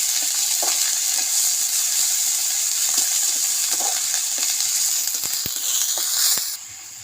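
Garlic and ginger paste frying in a pan in a village kitchen, a steady close sizzle and hiss with occasional stirring scrapes and taps, easing off near the end.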